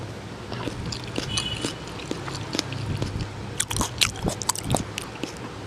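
Someone bites and chews a mouthful of mutton biryani up close, soft crunching and squishy chewing that grows more distinct toward the end.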